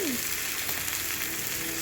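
Steady oily sizzle of spices frying in oil, dense crackle at an even level throughout, with no voices over it.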